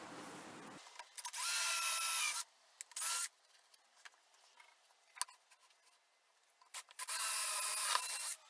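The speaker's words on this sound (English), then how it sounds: "and then I'll drill it there." A power drill bores a hole into a wooden router mortising jig in bursts, with short loud runs separated by pauses, quiet handling noises and small taps in between; nobody speaks.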